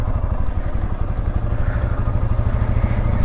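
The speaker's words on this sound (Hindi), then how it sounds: "बस चल रही है हमारी बाइक" A motorcycle rides along a road in Uttarakhand on the way from Nainital toward Ramnagar, its engine a steady low rumble with constant wind and road noise throughout.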